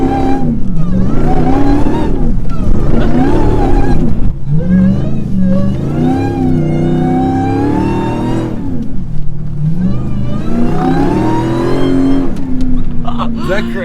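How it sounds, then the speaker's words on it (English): A Jeep accelerates hard, taking off in third gear with a loud, close engine roar whose pitch repeatedly climbs and drops as it revs, and voices talk over it throughout. "We're taking off in third gear."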